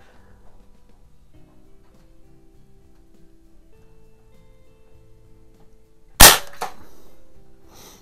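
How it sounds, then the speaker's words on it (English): A Walther airgun fitted with a silencer fires a single sharp, dry shot inside a garage, followed by a short rattle that dies away, after a stretch of quiet low hum. "I wouldn't shoot this out in the garage if it didn't have the silencer on it"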